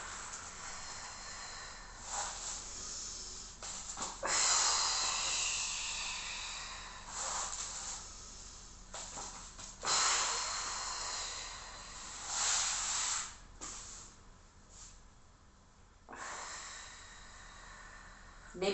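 A person kneeling, sitting back on their heels during a floor exercise, breathing in and breathing out audibly, several long airy breaths in succession, close and fairly soft with quiet gaps between them.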